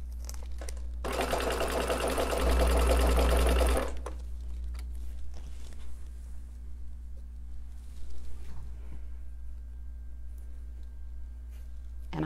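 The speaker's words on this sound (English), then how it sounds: "I like to chain piece as much as possible." A sewing machine stitches a quilt block during chain piecing, a fast steady mechanical whirring burst of about three seconds, then quieter handling sounds and a low background hum.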